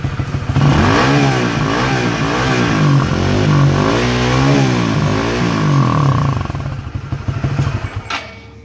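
Yamaha Winner motorcycle fitted with a Raider exhaust, revved higher while standing: a loud, steady engine roar rising and falling in repeated rev sweeps, then settling into a choppier idle with popping near the end.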